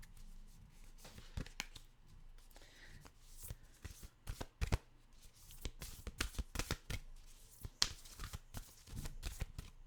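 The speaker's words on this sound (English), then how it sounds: "we're going to get an oracle card out" A deck of oracle cards being shuffled close up, with soft, irregular riffling and sliding bursts and light taps, quiet throughout.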